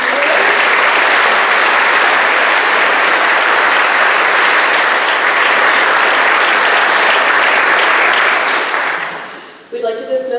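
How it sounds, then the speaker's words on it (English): A school awards ceremony audience gives a loud, dense round of applause for graduating seniors that holds steady for about nine seconds, then fades out as a voice begins speaking. "Let's have another round of applause for our seniors."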